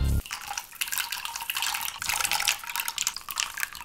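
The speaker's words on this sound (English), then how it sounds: "Splashing studs in a pool." LEGO studs pour and splash into a pool of loose studs, a dense, continuous plastic rattle and clatter, close and moderately loud, with no voices.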